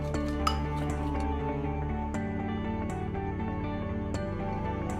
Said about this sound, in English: we gotta start off by mixing the flour and the milk together